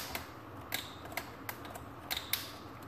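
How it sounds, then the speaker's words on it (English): A handful of sharp plastic clicks and snaps sound close up as a Dell Inspiron 15 3567 laptop keyboard's clips snap into place, irregularly spaced, over a quiet background. "And then you switch it down, you will hear the four clips."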